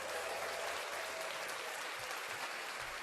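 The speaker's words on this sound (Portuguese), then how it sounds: "Merecia uma palmas aí, Léo." Applause from a small group in an online photography meeting: a faint, steady patter of hand claps that lasts throughout, with no one speaking over it.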